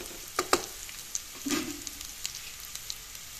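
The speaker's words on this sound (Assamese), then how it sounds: "এইখিনিও অলপ এনেদৰে তেলখিনিতে ভাজি লম" Ground spices (chilli, coriander and cumin powder) frying in hot oil, heard as a soft, steady sizzle with a few light stirring clinks and scrapes close by, no voices.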